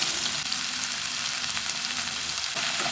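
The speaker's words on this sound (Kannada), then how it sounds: "ಆಮೇಲೆ ಅದಕ್ಕೆ ನಾನಿಲ್ಲೇ 2 ಸಣ್ಣಂಗೆ ಹೊಳ್ಕೊಂಡಿದ್ದ ಉಳ್ಳಾಗಡ್ಡಿ ಮತ್ತು ಒಂದು ಮೆಣಸಿನ್ಕಾಯಿ ಹಾಕ್ಕೊಂಡು ಅದನ್ನು ಚಲೋ ತಂಗಿ ಫ್ರೈ ಮಾಡ್ಕೊತೇನೆ" Finely chopped onions and a green chili sizzling in hot oil in a pan, a steady close crackling hiss that runs unbroken throughout, with no talking.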